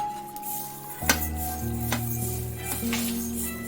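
Coriander seeds dropped into a pan on the stove and stirred with a utensil, giving a few sharp metallic taps and clinks over a steady low hum, fairly close.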